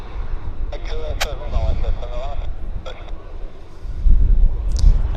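A fixed-wing airplane at Vancouver Airport rumbles steadily in the background under speech and radio chatter, with wind buffeting the microphone and the low roar swelling toward the end.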